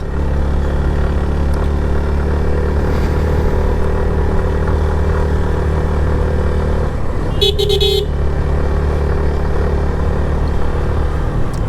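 A motorcycle climbs a hilly road in Bandarban with a loud, steady engine drone and wind rush, and a short horn toot sounds near the end.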